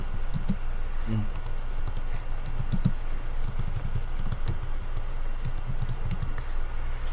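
Fingers tap out a short command on a computer keyboard, close and crisp, with irregular bursts of clicks and brief pauses over a faint room hum.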